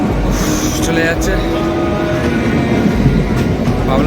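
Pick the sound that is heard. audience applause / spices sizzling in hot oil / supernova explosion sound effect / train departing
train departing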